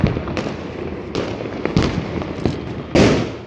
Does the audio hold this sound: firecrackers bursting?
yes